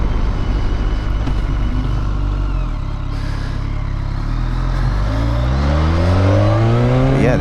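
A 2012 BMW K1300S motorcycle engine revs loudly and close by, dipping briefly, then climbing in pitch as it accelerates hard.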